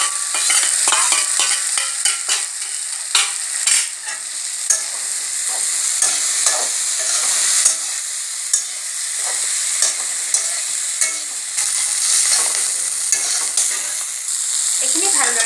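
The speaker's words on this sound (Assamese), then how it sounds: "ইয়াতে মাছখিনি দি একেলগে ভাজি লম" Dried katti fish fries in a pan with tomatoes, chili powder and cumin, giving a constant loud sizzle broken by frequent scraping and clacking strokes as a spatula stirs it close by.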